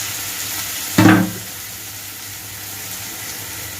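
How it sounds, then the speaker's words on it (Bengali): A little water is poured onto ginger paste in a hot cooking pan, giving one brief, bright splash and hiss that fades quickly into a quiet, low simmer. "আদা বাটা, সামান্য জল দিয়ে দিলাম।"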